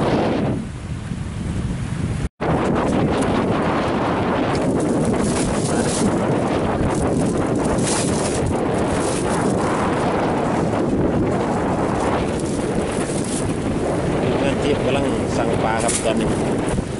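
Strong, cold wind during cast-net fishing at Ang Dok Krai reservoir in Rayong. The gusts roar steadily on the microphone throughout, and someone talks over them.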